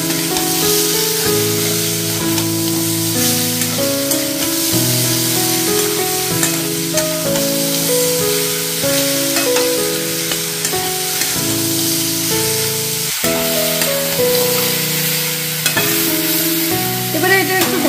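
Ridge gourd sizzles in a pan as it is stirred with turmeric and salt, a continuous frying hiss running steadily beneath louder melodic background music.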